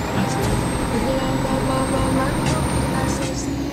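Turbo whistle and diesel engine drone from a Land Cruiser in the Euro Truck Simulator 2 driving game, a continuous loud engine hum with a sustained high whine and brief hissing bursts.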